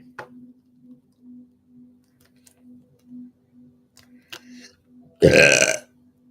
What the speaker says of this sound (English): Spirit makes me burp for those of you who are new.